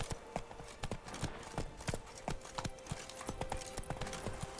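Roach, the horse in The Witcher video game, walks with steady clip-clop hoofbeats, a regular rhythm of distinct, fairly faint hoof strikes continuing for several seconds.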